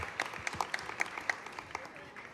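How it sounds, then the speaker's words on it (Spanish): Applause at a university talk on radio and platforms, a patter of clapping with distinct sharp hand claps punctuating a soft crowd wash, moderately close and steady. "un fuerte aplauso y gracias por venir"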